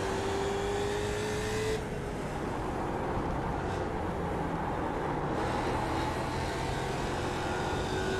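A race car in an iRacing simulation at Silverstone drones steadily at high revs while closing on and passing a slower class car. The engine note stays loud and continuous throughout, with a slight shift partway through.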